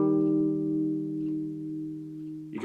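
Fingerstyle acoustic guitar rings out the closing chord of a song verse, a sustained strummed harmony that decays steadily for over two seconds before a soft tap or slap at the end, played alone.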